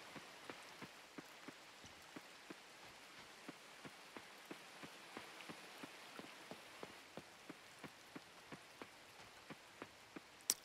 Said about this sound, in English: I love the sound of the rain in this game